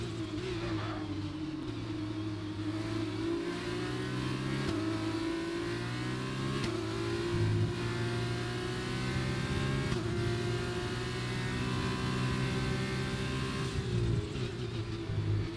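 Formula 2 race cars in a video game career-mode sprint race in Hungary drone continuously, with engines revving and shifting through gears in a steady, layered whine and no talking.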